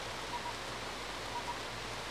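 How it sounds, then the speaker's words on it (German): Rain falls in the video game Starbound as a soft, steady broadband hiss, moderately quiet and unbroken, with faint tonal blips and no voices. "Will nur mal gucken, ob der Regen aufhört."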